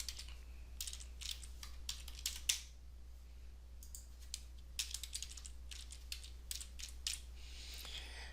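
A password being typed on a computer keyboard: quiet, irregular bursts of key clicks with short pauses between, over a faint steady electrical hum.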